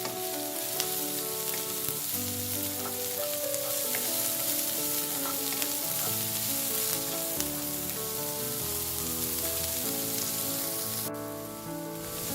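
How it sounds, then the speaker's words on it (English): Onions saute in hot oil in a pan with a loud, steady sizzle and crackle that runs throughout, with no talking. "Add the onions next and saute the onions until they turn translucent"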